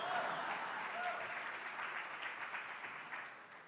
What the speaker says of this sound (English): You can applaud for that, sure.